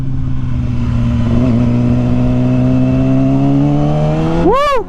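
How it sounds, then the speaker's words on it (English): A Yamaha R6 600cc sport motorcycle ridden on the road, its engine droning loud and close with a steadily rising whine as it accelerates, then a sharp high rev flare right at the end. "back on a 600cc bike"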